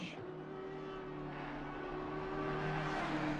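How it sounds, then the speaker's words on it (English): Audi GT3 race car engine in a racing video game, roaring at a steady high pitch with a sustained drone that swells slightly louder toward the end, no talking. "I like the way that Audi sounds."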